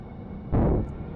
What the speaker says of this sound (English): So these are the new up-spec engines.